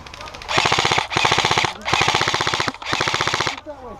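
Airsoft guns fire long automatic bursts during an outdoor hostage game, four sustained rapid strings of close, loud shots separated by short pauses, with a brief shout near the end.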